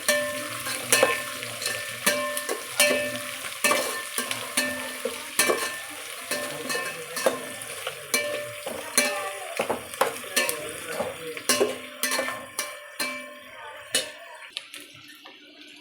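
Onions and green chillies frying in a pan for bagara rice, a soft sizzle under frequent sharp clacks and scrapes of a spoon stirring against the pan, close and rhythmic, fading out near the end.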